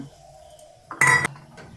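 Potatoes go into a pressure cooker filled with water, producing a single sharp metallic clink of pots against the quiet kitchen.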